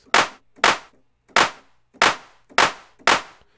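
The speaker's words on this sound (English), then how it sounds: "And then we got a clap here." A synthesized trap 808 clap made in the Serum synthesizer strikes six times at a loose, uneven pace, each hit a crisp, bright burst with a short fading tail and silence between.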